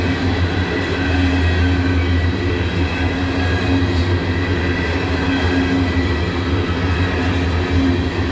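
Freight train of empty rail cars rolling past close by in a South Carolina rail yard, a steady, loud rumble with humming wheel tones and faint clatter, unbroken from start to finish.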